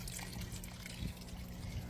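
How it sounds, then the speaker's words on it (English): An aquaponics bell siphon drains water from the grow bed with a continuous trickling, gurgling wash at close range, steady throughout with no pauses. "that is my bell siphon. Automatically drains by itself."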